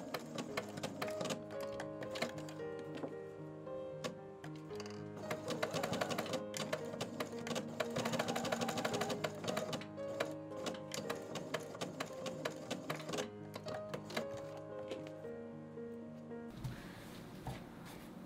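A domestic sewing machine stitches a brand label onto a blouson with matching thread, a steady mechanical whirring with rapid ticking that runs almost continuously and fairly close, ending with a short noisier burst.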